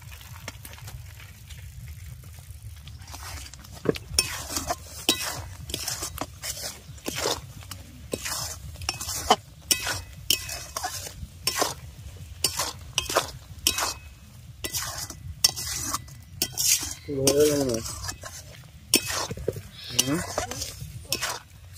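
Grated coconut is stirred into a jaggery and sugar filling in a pan, producing repeated soft scraping and clinking strokes of a spoon against metal in a steady rhythm, with a low background hum.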